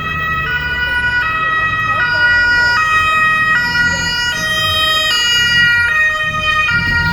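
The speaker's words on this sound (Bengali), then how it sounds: "যদিও পিছে হচ্ছে অ্যাম্বুলেন্স, আচ্ছা পুলিশের গাড়ি জায়গা দেওয়ার জন্য" An ambulance siren wails in city traffic while a police vehicle pulls aside to let it pass. The loud two-tone siren alternates steadily throughout over a low rumble of traffic and engines, with no talk.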